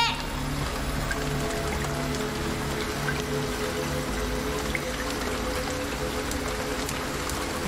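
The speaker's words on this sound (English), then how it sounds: "Getting fucked by the rain" Rain falls steadily in the video game Lorelai, a constant close patter of drops on surfaces with a low hum of background tones beneath it.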